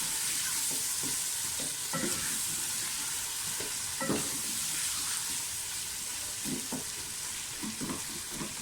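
Tomatoes fry in ghee for aloo dum biryani, a steady close sizzle with soft scraping stirs recurring through it and no voices.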